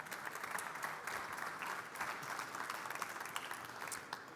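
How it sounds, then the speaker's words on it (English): Audience applause after a keynote at the Formnext additive manufacturing trade fair, steady dense clapping from a crowd, fairly quiet and continuous for a few seconds. "one applause, please"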